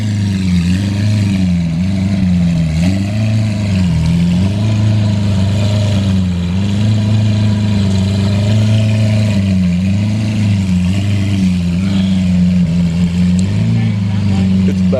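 Lamborghini Aventador SV engine fitted with an aftermarket exhaust, running loud and close with a steady deep rumble that swells and dips in repeated blips, while people talk over it.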